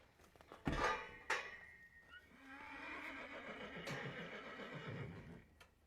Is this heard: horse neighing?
yes